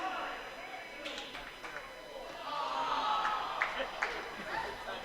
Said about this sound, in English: And you hear an awe from the crowd.